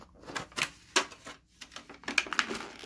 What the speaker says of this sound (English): Sorry about all that crinkling noise.